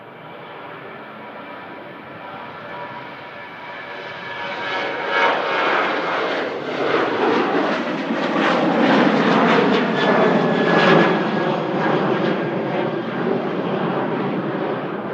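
Jet2 airliner operated by ATF at Manchester Airport, bound for Prague: a steady engine roar that swells over several seconds, loud and close, with whining tonal lines under the broadband rush and no talking.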